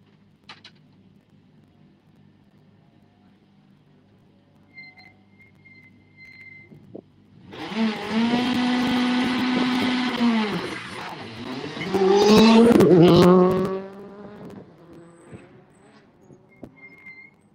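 A Citroen rally car on a Donegal International Rally stage approaches from quiet, then roars past loudly with hard revving and gear changes, engine peaking twice before fading into the distance.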